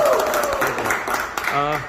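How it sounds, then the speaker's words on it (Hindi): An audience claps for an honoured guest at a Maharashtra team welcome event, a dense wash of applause under continuing loud talk, with a voice speaking clearly near the end. "यहाँ पर एक बार नवनाथ जी के लिए तालियां हो जाए जबरदस्त"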